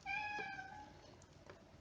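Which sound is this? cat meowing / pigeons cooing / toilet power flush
cat meowing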